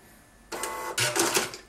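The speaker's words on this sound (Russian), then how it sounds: "Все, чек у нас печатается." A cash register receipt printer prints a receipt, giving a short, close, buzzing mechanical whir that starts abruptly and runs for about a second.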